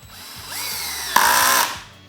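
A cordless drill/driver set to torque 7 drives a screw. It gives a brief rising motor whine that jumps to a sharper burst near the end before cutting off, close and alone.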